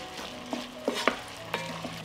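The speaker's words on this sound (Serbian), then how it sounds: "nastavit ću da pržim dok paprika i paradajz ne omekšaju." Onion, pepper and tomato frying and being stirred in a pan, a steady soft sizzle broken by several sharp scraping clicks of the utensil, close and alone with no talking.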